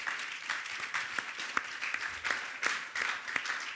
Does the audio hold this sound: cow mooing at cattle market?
no